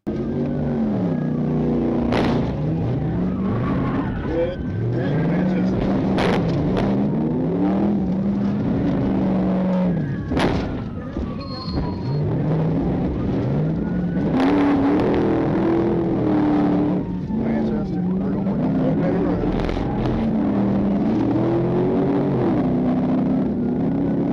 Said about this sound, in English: The driver, Camonte Brown, quickly accelerated and fled, running a red light and spinning out at the intersection of Torch Hill Road and Fort Benning Road